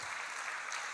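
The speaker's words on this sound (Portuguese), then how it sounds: "Uma salva de palmas para os três." Applause from a church congregation during a service, a dense steady wash of clapping that holds at a constant level for the full second with no voices over it.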